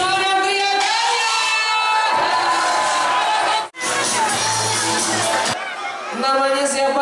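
Crowd at a lively evening gathering in Jakarta cheers and shouts loudly for about seven seconds, with whoops and children's voices in a dense, continuous roar that drops out briefly in the middle before surging back.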